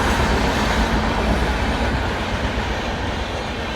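A train passes close by, producing a loud, steady rumble and roar that holds throughout the whole clip, with no talking.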